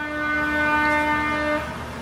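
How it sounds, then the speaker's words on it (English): A passing train sounds a loud, sustained horn with steady harmonic tones that fades near the end over a low rumble, heard at moderate distance with no talking. "That's the train."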